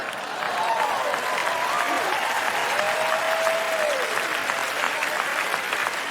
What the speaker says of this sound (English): You don't have to hold the applause inside